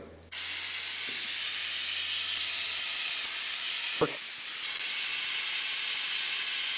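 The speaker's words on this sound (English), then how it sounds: "I'm not gonna make you listen to all this air compressor noise" An air compressor runs during skid steer repair work, a loud, continuous hissing rush of air that starts abruptly and holds steady, with a brief dip and a short knock partway through.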